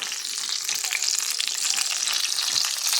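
Kiev cutlets fry in hot oil over low heat, giving a dense, steady crackling sizzle heard up close without pause.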